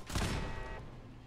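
A single loud burst of gunfire in Fallout 4, a sharp crack with a short ringing decay that fades within about a second, heard alone.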